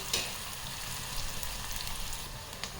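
Onion frying in a pan for paneer bhurji, a dense, rain-like sizzle that holds steady from start to finish, with a sharp crackle at the start and a few light clicks.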